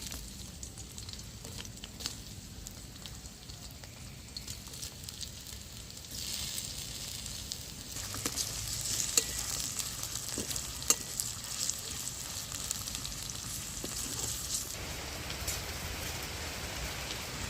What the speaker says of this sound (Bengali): এবার আমি তেলের মধ্যেই পেঁয়াজটা দিয়ে দিচ্ছি।